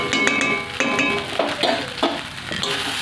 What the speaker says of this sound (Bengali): হালকা জালে ভালো করে নেড়ে চেড়ে নেব।